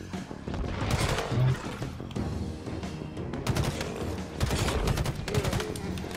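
Sustained bursts of gunfire and heavy fire rattle through a Halo Infinite firefight, loud and dense across the whole stretch with sharp volleys clustered around the middle and end.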